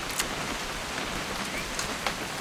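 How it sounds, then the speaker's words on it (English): Steady rain in the video game What Remains of Edith Finch, an even, hissing wash with occasional brighter droplet ticks throughout, heard on its own with no voices. "It's gonna rain the whole weekend, isn't it?"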